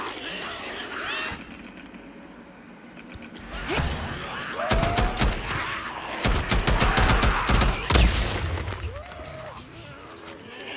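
Explosions in the video game Days Gone, a burst of sharp, loud blasts and crackling impacts clustered in the middle, over a steady game-sound background, with no talking.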